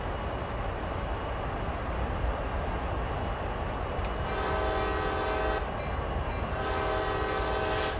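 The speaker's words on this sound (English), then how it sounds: "They didn't make me sound my horn twice" Locomotive horn in Train Sim World's CSX Heavy Haul yard work sounds two long blasts over a constant rumbling engine and rail noise, loud and close.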